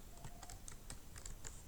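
Someone types on a computer keyboard, making faint, evenly spaced key clicks over a quiet background hiss.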